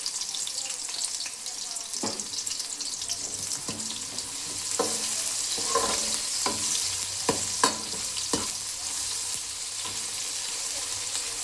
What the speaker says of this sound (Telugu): ఆనియన్స్ బాగా ఫ్రై అవ్వాలి కాబట్టి ఇప్పుడే వేసుకోవాలి